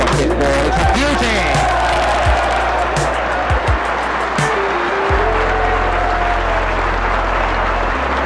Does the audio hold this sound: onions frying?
no